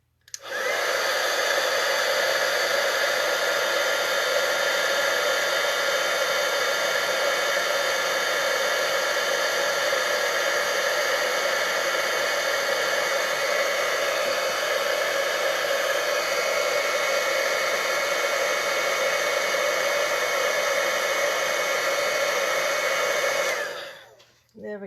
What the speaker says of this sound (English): now I'm going to plug in my heat tool. And we're going to warm this up.